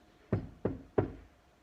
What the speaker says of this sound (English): Suddenly, Percy heard a tapping sound.